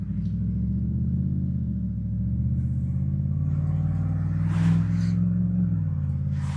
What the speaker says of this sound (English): So you've got the sound of my exhaust.